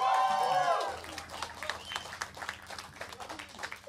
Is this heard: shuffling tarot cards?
no